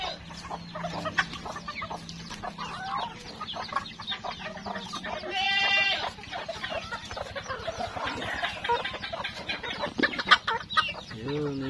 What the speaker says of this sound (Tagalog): Papakainin natin itong mga bantam natin. Tignan natin yung magsisilapitan sila.